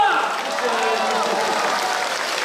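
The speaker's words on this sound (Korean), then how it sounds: "박수로 환영합니다." An audience at a Korean corporate welcome event claps and cheers for visiting employees, a sustained burst of applause with a few raised voices, fairly loud and steady from start to finish.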